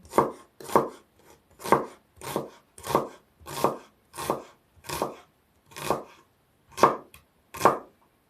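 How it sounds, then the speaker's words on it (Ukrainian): A knife chopping onion on a board, about eleven evenly spaced cuts in a steady, unhurried rhythm, close and clear with nothing else heard. "Цибулю поріжу отак ну, на 4 частини"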